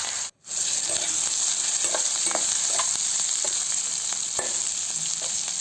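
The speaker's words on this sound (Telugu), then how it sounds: "ఈ వంకాయలు కూడా ఆయిల్లోనే బాగా ఫ్రై అయిపోవాలి" Brinjals frying in oil in a pan for Karnataka vangi bath, a continuous close, dense sizzle with light stirring taps, briefly cut by a short gap near the start.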